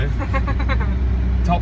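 A four-wheel drive car's engine rumbles low and steady through a run-up on a rough track, sitting beneath continuous talk from the people inside.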